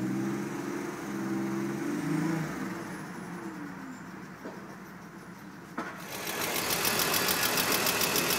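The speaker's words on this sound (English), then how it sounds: "I lifted the hood now and here's the car at idle." A 2001 BMW E46 325i idles with a ticking sound, its engine hum heard up close under the raised hood, with steady background noise swelling louder toward the end.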